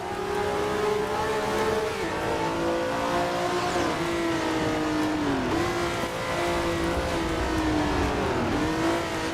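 A race car engine in Assetto Corsa holds a loud, sustained whine that dips and climbs again with each shift, near and continuous with a faint tire squeal.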